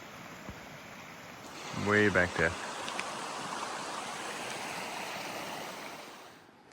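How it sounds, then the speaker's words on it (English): The river in Enchanted Valley flows as a steady, broad rush of water throughout, with a person speaking briefly over it near the start. "Down here at the river."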